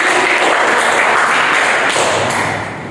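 A burst of applause follows a geography lesson presentation on the concept of geography. The loud, broadband clapping holds steady for several seconds before fading near the end, with no speech over it.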